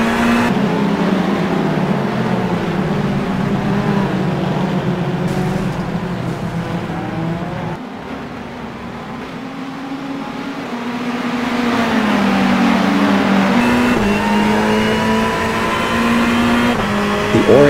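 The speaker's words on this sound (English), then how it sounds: "The orange car lost control and crashed into the others." Ferrari GT3 race cars at Road Atlanta in iRacing, engines droning and revving loudly as they pass near a crash at a curve exit, pitch dipping then climbing again as cars accelerate away.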